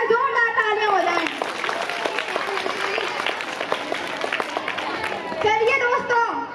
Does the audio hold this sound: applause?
yes